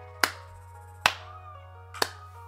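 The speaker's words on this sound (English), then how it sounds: "Y'all get a clap for that one." Three sharp, separate claps ring out about a second apart over a low steady hum, each bright and short with a brief echoing tail.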